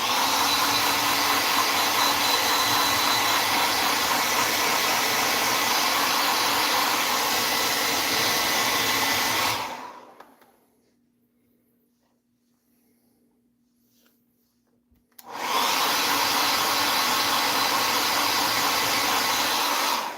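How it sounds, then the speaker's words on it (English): A blow dryer blasts a steady, loud rushing whoosh while drying paint on a Kato Union Pacific SD90MAC model locomotive, cuts out for several seconds of near silence, then roars back on at full strength. "I lost my blow dryer."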